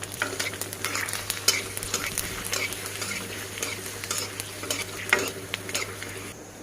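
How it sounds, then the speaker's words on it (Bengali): Fuchka puris fry in hot oil at home, a continuous close sizzle and bubbling with scattered crackles and light scraping as they are turned, no voices. "এই যে এতটা ভাজা হয়েছে, আর কয়েকটা ভাজবো।"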